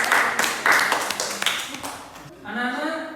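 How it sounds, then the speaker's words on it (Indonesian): A school class claps for a group of students, a few sharp bursts of hand claps in quick succession that fade out, followed by a brief voice. "Oke, tepuk tangan untuk kelompok 3."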